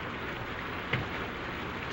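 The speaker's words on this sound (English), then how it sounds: "It's this rain, I guess." Steady rain falls in a broadband hiss without a break, constant and moderately loud, with one faint knock partway through.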